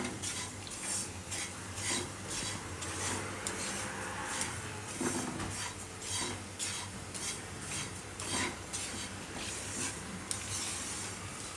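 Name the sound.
dry-roasting grated coconut in a pan, stirring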